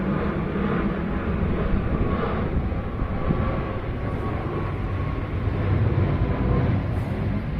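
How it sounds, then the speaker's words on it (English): A steady, broad engine roar drones throughout, like an airplane passing overhead, loud and continuous with no breaks. "when that plane stops going overhead"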